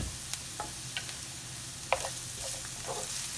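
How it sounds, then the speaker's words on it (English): Onions cooking in a pan for a samosa filling, giving a steady low sizzle with a few light taps and scrapes of stirring scattered through, close by and with no talking. "we'll just let our onions keep cooking"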